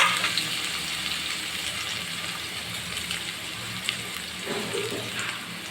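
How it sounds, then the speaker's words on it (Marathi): Cucumber and green chilli tipped into hot oil with cumin seeds in a kadhai, hissing and sizzling steadily at close range with a broad, even frying noise and no talking. "आता मिरची आणि काकडी सोबत टाकते"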